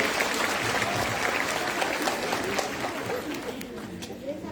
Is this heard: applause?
yes